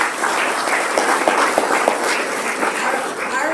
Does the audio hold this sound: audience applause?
yes